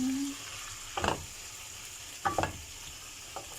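Squid frying in a pan, with a steady low hiss of frying and a few short clusters of spatula scrapes as it is stirred, close and fairly quiet.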